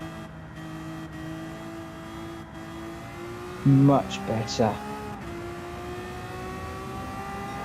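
Race car lapping Kyoto Racing Park in a video game, a steady engine drone with a brief louder rev-and-shift burst midway, while someone talks over it.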